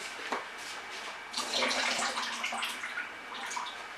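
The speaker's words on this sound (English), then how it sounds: "I'm just going to take that water out." Water drained from tomatoes pours and splashes steadily for a few seconds, a close, hissing trickle with a brief louder gush in the middle, no voices.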